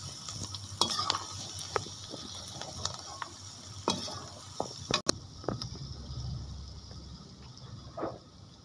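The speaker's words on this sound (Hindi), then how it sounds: "ये मसाले इसमें डाल देंगे। अब इसको थोड़ी देर फ्राई करें।" Spices frying in oil in a pan for masala okra, a low continuous sizzle with scattered spoon scrapes and clicks, one sharp knock midway.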